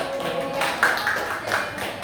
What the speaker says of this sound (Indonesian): Tepuk tangan ya untuk kelompok 1.